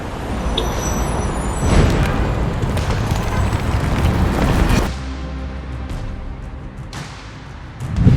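Sound effects of a shot crashing through a floor: a loud rumbling, crumbling roar with thuds that cuts off abruptly, followed by a quieter settling rumble and a final thump.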